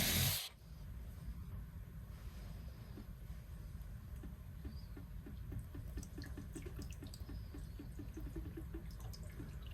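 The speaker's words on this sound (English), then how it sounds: "there's going to be plenty of water that comes out of here" Water drains from a cut household water line during a Moen Flo installation, making a steady, close hissing rush that runs throughout after a sharp knock at the start.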